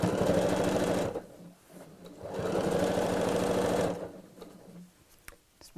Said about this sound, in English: I'm going to stitch across the bottom of the pocket to secure it